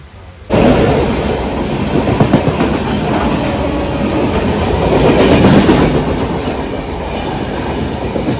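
A train on the Konkan Railway near Kharepatan rumbles past close by after a sudden onset, with loud continuous clatter of wheels on rails that holds steady and eases slightly toward the end.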